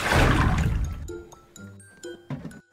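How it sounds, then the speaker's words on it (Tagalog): Water pours into a cooking pot of garlic and seafood with a brief loud gush, then trickles and drips with small clinks as the pour ends, close up and without talk. "lalagyan na tayong tubig"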